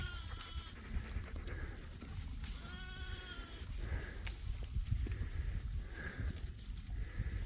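Several bleats from sheep grazing trees and goatweed alongside dogs, one drawn-out call in the middle and shorter ones after, over an outdoor rumble of wind and movement.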